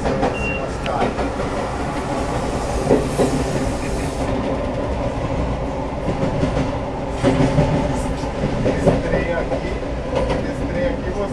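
A CPTM Line 12 commuter train runs along the track as heard from inside the driver's cab, with a constant rumbling roar, rattles and rhythmic rail clatter, while people talk over it.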